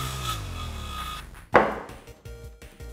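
Plywood-and-kayak boat build: a wooden stringer being cut to length with a saw, a sharp loud cutting stroke standing out over low background hum, followed by a few quieter knocks and scrapes.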